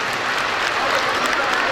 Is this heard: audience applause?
yes